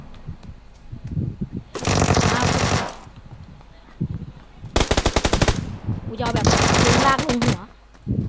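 Bursts of rapid automatic UMP submachine gun fire in PUBG Lite rattle in three long strings, with faint voices talking quietly between and beneath them.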